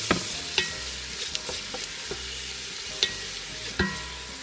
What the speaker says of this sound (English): Next, I'm going to add the onions. We're going to stir.